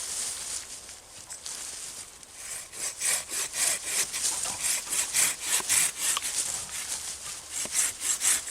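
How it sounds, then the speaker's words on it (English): Hand saw cutting through a wooden crotch stick outdoors in the wilderness: steady rhythmic back-and-forth rasping strokes, close and clear, quickening in the second half, no talk. "We'll use our saw here."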